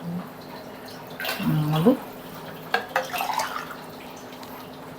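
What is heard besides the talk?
water being poured into a pot for pongal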